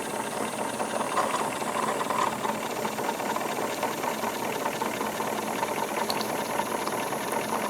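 A Wilesco D22 model steam engine runs steadily, its quiet, even chuffing and light mechanical rattle holding a constant level throughout with no voices.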